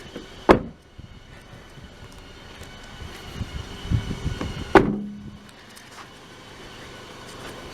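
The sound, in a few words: closing the doors of a 2006 Toyota Yaris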